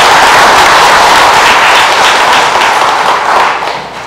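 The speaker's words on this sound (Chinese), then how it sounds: "咱用掌声大家欢迎甲感谢" A church congregation at a Taiwanese-language worship service applauds to welcome a visiting pastor: loud, dense clapping from many hands that holds steady, then thins out at the end.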